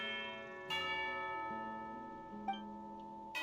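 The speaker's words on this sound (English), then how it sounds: "You hear the sound of a bell." Bells in the video game Genshin Impact ring to signal tea time, several resonant strikes with long ringing tones that decay slowly, each new strike layering over the last, set against soft background music.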